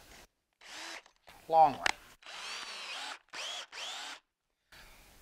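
A power drill with a 7/16 brad point bit bores into wood in several short whirring bursts separated by pauses, and someone speaks briefly between them.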